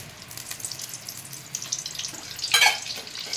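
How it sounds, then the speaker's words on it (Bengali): Butter melting into hot refined oil in a kadai gives a soft, steady sizzle and faint crackle, swelling briefly into a brighter spatter near the end. "কড়াতে একটু রিফাইন্ড অয়েল দিয়েছি, আর তার সাথে আমি একটু বাটার দিচ্ছি"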